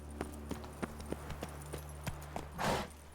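Hooves of Roach, Geralt's horse in The Witcher 3, clip-clop in a quick steady rhythm, fairly quiet, ending with a brief soft burst of noise.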